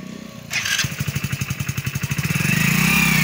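Motorcycle engine kicks in after a short moment and runs with a rapid, even pulsing chug close by, then builds slightly louder toward a steadier drone.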